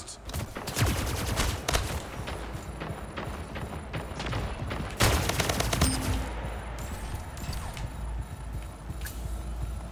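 Sniper rifle and other weapon fire in the Splitgate video game, sharp repeated shots and bursts cracking through a busy, dense mix of game sounds at moderate volume.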